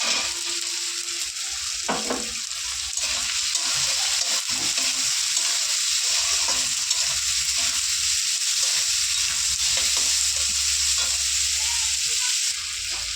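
Potatoes frying in a pan with flattened rice for chirar polau, a loud continuous hiss and sizzle close up, with an occasional soft scrape as they are stirred, no voices.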